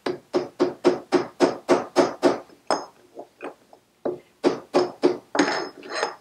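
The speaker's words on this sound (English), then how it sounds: "I'll just be using the sprocket socket to try and tap that home" A socket taps a Shovelhead primary sprocket home in a quick run of about ten sharp, evenly spaced metallic blows, then several lighter irregular taps, a short pause, and a few more firm strikes, all close and loud.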